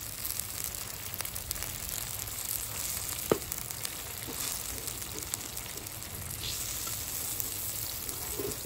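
Pabda fish sizzling as it goes into a hot pan with water for a Bengali fish curry, a steady close frying hiss with small pops and a sharp clink partway through, no talk.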